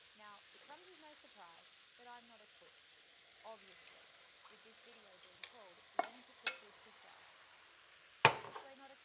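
Soft, steady sizzling of mince frying in a pan, broken by occasional scraping stirs and a few sharp clinks of a utensil against metal.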